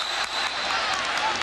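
Stadium crowd clapping at a 2003 college football game between West Virginia and Miami, a steady dense wash of applause for about a second and a half, loud and continuous with a commentator's voice faintly underneath.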